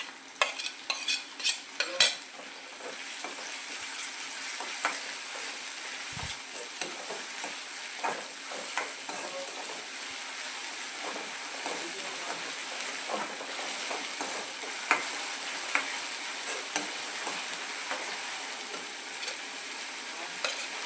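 Ginger and garlic sauté in hot oil in a pan, a steady close sizzle and crackle with a few sharp stirring clinks at the start, continuing evenly with no talking.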